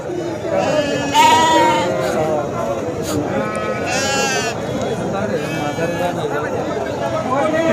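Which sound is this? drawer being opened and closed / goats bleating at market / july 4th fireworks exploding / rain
goats bleating at market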